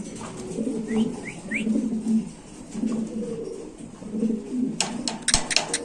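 Several fancy pigeons coo in low, repeated throaty phrases throughout at a pigeon seller's, with a few soft chirps and some clattering at the end.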